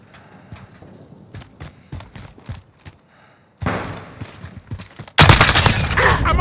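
Gunfire in Call of Duty: Modern Warfare, starting as scattered sharp single shots and short bursts, then building into dense, loud sustained firing that fills the final seconds.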